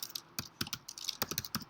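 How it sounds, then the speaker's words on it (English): Typing on a computer keyboard while entering a California living will form, a quick irregular run of sharp close key clicks with short pauses between clusters, fairly quiet and with no talk. "we just type right in here, Johnny Appleseed"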